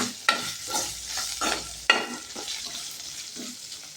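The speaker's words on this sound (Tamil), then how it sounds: "மிளகாய், கொஞ்சமாக கருவேப்பிலை போட்டு நல்லா வறுத்துக்கணும்." Dried chillies and a few curry leaves fry in hot oil in a pan, crackling and sizzling at close range. Two sharp scrapes of a spoon stir the pan, and no voices are heard.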